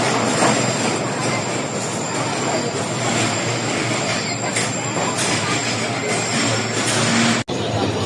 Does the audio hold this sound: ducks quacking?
no